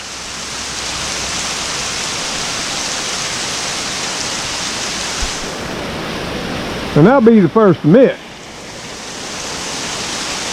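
Steady rain falling long enough to form puddles on the ground, a broad continuous hiss filling the scene while someone speaks briefly over it.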